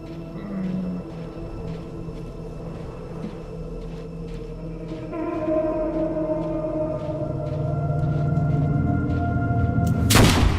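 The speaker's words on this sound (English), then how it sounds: "That was a gunshot." A single sharp gunshot rings out near the end in the video game Life is Strange: Double Exposure, loud and sudden over a steady bed of low game ambience and music.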